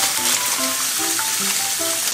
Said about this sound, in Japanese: オリーブオイルで、これ潰したニンニクですね。 とりあえずニンニクに火を入れていきます。